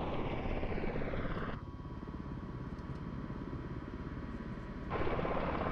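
V-22 Osprey tiltrotor aircraft in Microsoft Flight Simulator holding steady flight: a continuous loud rotor and engine drone with heavy low thumping, briefly muffled in the middle before returning to full strength, with no talk.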